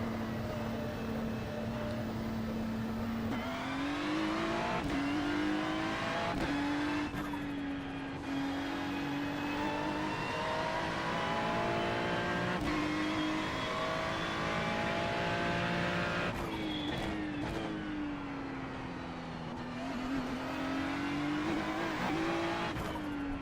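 A GT3 race car engine in a sim racing sprint race drones steadily at high revs, pitch rising and dipping through gear changes and corners, loud and continuous without talk.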